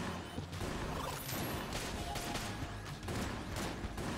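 Shotgun fire rips through a frantic action scene in the video game Exit the Gungeon, a dense, loud barrage of repeated blasts and crashing impacts with no pause and no talk.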